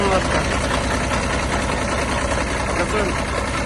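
A Kubota ZB1-15 Japanese mini tractor engine runs steadily and is revved gently, giving a continuous, close, even rumble with a low knocking diesel-like texture. No one speaks over it.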